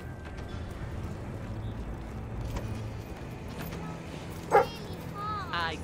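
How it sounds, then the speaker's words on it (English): A dog in the video game Fable III barks once, a short, sharp yelp late in the clip, heard over steady game ambience with faint background chatter. "Look at the doggy."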